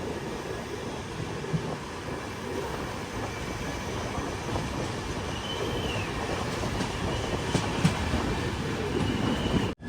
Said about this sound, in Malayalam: പെരമ്പൂർ റെയിൽവേ സ്റ്റേഷനിൽ വണ്ടി എടുത്തിരിക്കുകയാണ്.